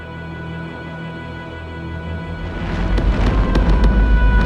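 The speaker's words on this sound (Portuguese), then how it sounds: "E as explosões ainda continuam." A volcano erupting near Plymouth, where pyroclastic flows have struck, builds from a low rumble into loud, booming blasts with sharp cracking bursts in the second half.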